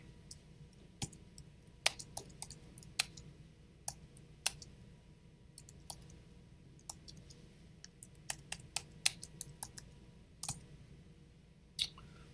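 Scattered light clicks of typing on a computer keyboard, irregular and fairly faint, tapping on and off over a steady low background hum with no talking.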